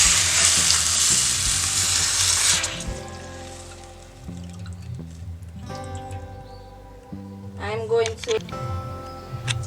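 Tinned mackerel sizzles steadily in a frying pan while being stirred, a loud bright hiss at first that settles into quieter frying, with a voice talking over it throughout.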